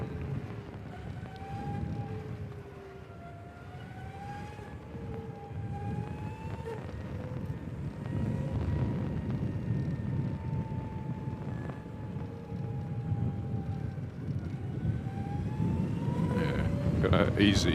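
A ZAPP EV i300 14 kW electric motorcycle climbs a 1-in-7 test hill, its motor whine rising and falling steadily over rumbling wind noise, with a voice briefly speaking.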